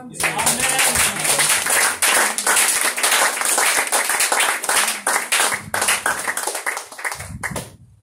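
A church congregation claps and cheers for Jesus, steady rhythmic group clapping with voices mixed in, loud and continuous before easing off at the end.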